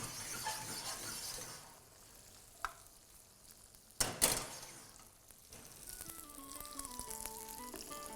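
Sliced onions frying and stirred in a pan for a dhaba-style spicy egg do pyaza, a hissing sizzle with a few sharp clinks and a louder burst midway, close and with no talking.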